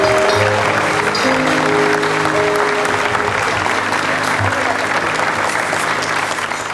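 Loud, sustained crowd applause at a memorial farewell in Barrancabermeja, many hands clapping steadily and close, with faint voices and murmurs in the crowd beneath it.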